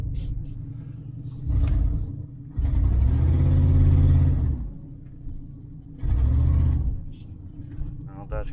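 A 1994 GMC Stepside pickup with its engine idling and rising in two low rumbling surges as it is put in gear, close by, with someone talking over it.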